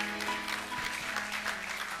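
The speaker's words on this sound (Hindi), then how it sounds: "इन दोनों बहनों के लिए एक बार जोरदार ताली बजा दो भाई।" A yoga session audience claps for two sisters, a dense, steady wash of many hands at moderate distance with no voices over it.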